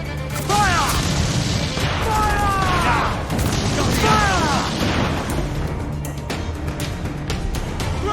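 Ship cannons fire in an Assassin's Creed IV Black Flag naval battle, with heavy booms and crashes under loud, excited shouting voices that carry through most of the scene.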